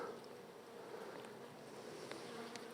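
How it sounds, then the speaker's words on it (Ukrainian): Honeybees crawling over hive frames while nests are being set up for winter, making a soft, steady buzzing hum close by. "Бжоли практично сидять на кожній рамці"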